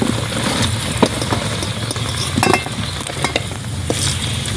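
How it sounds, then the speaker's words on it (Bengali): Big potatoes are lifted out of hot frying oil. A continuous crackling sizzle runs throughout, broken by scattered clinks and scrapes of a utensil, with no talking. "আলুগুলো তুলে নিচ্ছি।"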